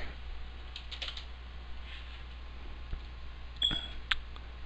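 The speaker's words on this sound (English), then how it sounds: "Alright, let's type in MC." Soft keystrokes tap on a computer keyboard in a quiet room, a few scattered clicks over a low steady hum.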